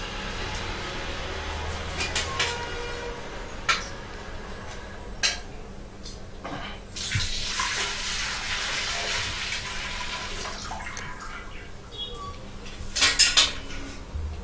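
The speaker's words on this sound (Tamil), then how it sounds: "இப்போ நீ பால் ஊற்றலாம்." Milk poured into an Ekomilk automatic milk collection unit, a running liquid wash with metallic clinks and knocks, several sharp clanks and a louder splashing burst near the end.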